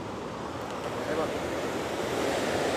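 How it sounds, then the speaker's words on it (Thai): Water from a waterfall pours onto rocks at Kaeng Along in Nong district, Savannakhet, Laos, making a steady, dense, loud roar with no break. "ด้านหลัง ก็เป็นจุดที่น้ำตกตาด ซึ่งว่ากระทบกับหิน"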